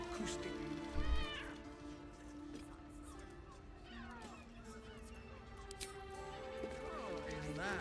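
A cat in Baldur's Gate 3 meows a few times over steady game ambience and music, with a louder thump near the start; no one talks.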